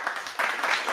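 A short burst of hand clapping during a live stream, a small group applauding in uneven bursts, fairly close and moderately loud with no talking over it.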